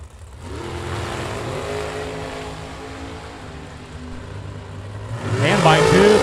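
Bracket-racing dragsters at the Firecracker Bracket Nationals drag strip, with Bruce Call's dragster driven by Andy Schmall, give a sustained loud engine roar that swells near the end, under an announcer's voice.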